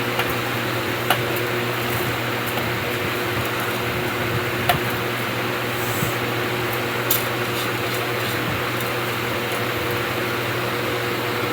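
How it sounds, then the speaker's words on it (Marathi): A mixer grinder runs with a steady, continuous motor whine as it grinds rice into a paste. The sound holds level throughout with faint clicks and no voices. "याला मी मिक्सरला लावते आणि तुम्हाला दाखवते।"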